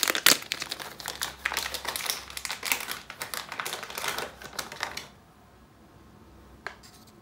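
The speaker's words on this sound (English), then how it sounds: "Locate the perforated hole to tear open your new ink." Plastic packaging for a new HP ink cartridge crinkles and tears open in a rapid, close-up burst of crackling for about five seconds, then falls nearly silent apart from one faint later rustle.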